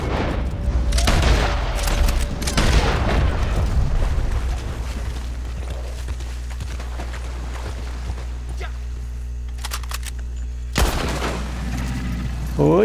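Gunfire and blasts from the online game Red Dead play in dense bursts early on, followed by quieter game ambience and a few later sharp shots, under occasional voices.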